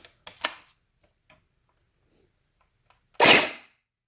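A Steyr AUG gel blaster fitted with a modified Gen 8 gearbox and an aluminium barrel fires a single loud, sharp burst after a few faint clicks and handling taps.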